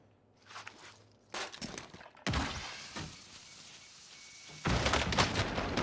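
Shotgun blasts in Warzone, several loud, broad bursts spaced a second or two apart, mixed with footsteps and clattering game noise at moderate volume.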